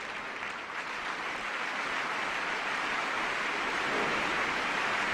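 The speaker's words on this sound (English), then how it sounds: "Let's have a big hand for the runner-up," Crowd applause in the PS2 snooker game World Championship Snooker 2004, a soft, even hiss of clapping that swells slightly toward the end, with no voices.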